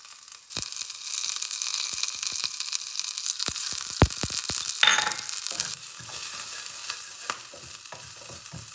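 Chillies and curry leaves fry in a pan, giving a continuous close sizzle broken by sharp utensil clicks and stirring scrapes, with a brief louder burst of spitting oil midway.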